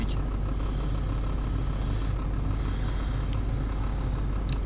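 A Nissan Almera engine idles shortly after starting at around 1400 rpm, a steady close low rumble with constant loudness and no voices.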